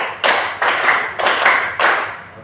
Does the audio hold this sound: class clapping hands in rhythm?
yes